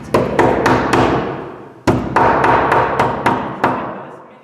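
Hard knocks on a door in a staged Shakespeare comedy: a quick burst of four heavy bangs, a pause, then a second run of about six blows, each ringing out briefly, with no voices.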